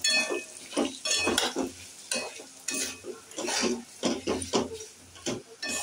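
Semolina (suji) is poured slowly into a hot pan and stirred for a savory namkeen dish. It makes soft scraping and rustling strokes with faint sizzle and occasional light clinks of the spoon against the pan.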